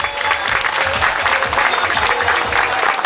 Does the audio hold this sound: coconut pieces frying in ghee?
no